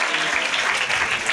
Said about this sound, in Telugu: చప్పట్లు కొట్టి దేవునికి స్తోత్రం చెప్పాలి